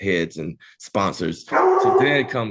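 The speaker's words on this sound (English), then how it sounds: "oh, that's my dog, sorry" A dog barks and yips indoors during a podcast interview, short sharp barks breaking in between and under a man's ongoing speech.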